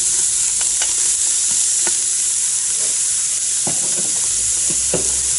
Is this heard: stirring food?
yes